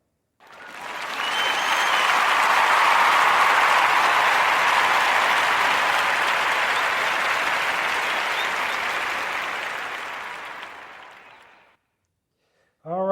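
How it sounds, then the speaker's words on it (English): Applause for Oliver Toussaint Jackson of Deerfield, Colorado, a steady, even wash of clapping that swells quickly, holds for about ten seconds, then fades out; a voice begins right at the end. "round of applause for Oliver Toussaint Jackson"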